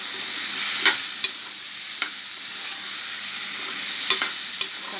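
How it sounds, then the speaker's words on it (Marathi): Drumstick pieces frying in oil, stirred with a few sharp scrapes against the pan over a steady loud sizzle, no voices. "शेंगा परतून घ्यायचा तेलामध्ये"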